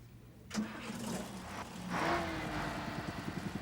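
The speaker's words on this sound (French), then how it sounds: "J'ai réparé le moteur du mieux que j'ai pu. Essaie de démarrer, Larry." A repaired boat engine cranks and catches at about half a second, then settles into a steady running chug with rhythmic pulses, fairly close and alone with no voices.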